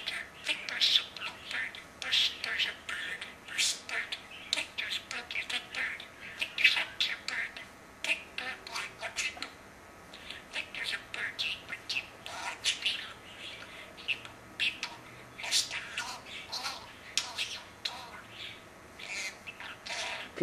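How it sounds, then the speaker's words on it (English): A bird calls repeatedly in short chirps and squawks, moderately close, in an irregular rhythm throughout, with people speaking over it. "What's the bird telling Victor?"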